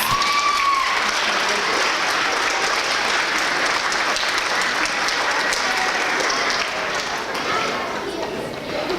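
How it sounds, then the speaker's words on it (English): Steady applause from an audience at a school awards ceremony fills the room, dense and sustained at even loudness with a faint murmur of voices underneath. "Give them a big round of applause."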